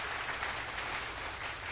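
Studio applause on a radio talk show, a steady dense wash of clapping with no distinct individual claps, faint and even throughout.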